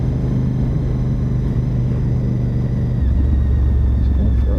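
A 1000cc motorcycle cruises along a road in a steady, loud, close engine rumble with low droning tones, the pitch shifting down slightly partway through as the ride continues, with no voices.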